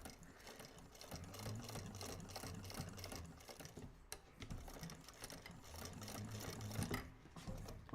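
A sewing machine stitches a bag in quick, close, rhythmic bursts of whirring needle chatter, pausing briefly between runs, with no talk.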